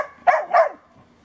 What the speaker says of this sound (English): watch it bark at it, it'll get it going